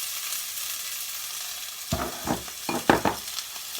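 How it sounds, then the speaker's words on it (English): Onions and leeks hitting a hot pan for vegan spicy vegetable fried rice, a soft background sizzle that jumps into louder crackling and several sharp stirring scrapes in the second half. "we're going to add our onions and our leeks first"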